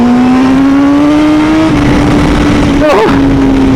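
Honda Fireblade or Aprilia V4 motorcycle engine held at a loud steady drone that climbs slowly, then briefly blips higher before settling again, close and overpowering.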